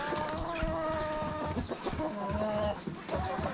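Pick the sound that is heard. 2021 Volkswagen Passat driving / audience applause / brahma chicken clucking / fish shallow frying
brahma chicken clucking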